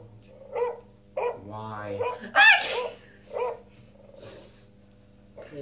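Dog barking in a few short bursts spread among people talking and laughing nearby, the barks moderately loud and irregularly spaced.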